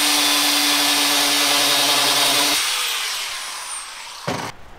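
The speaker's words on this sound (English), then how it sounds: "today I'll be making pegs out of these half-inch rebar using the spinning cutty gadget" A spinning cutting tool bites loudly through half-inch steel rebar while making pegs for reattaching a wall to a foundation, a steady grinding whine that tapers off, followed by a brief sharp clank near the end.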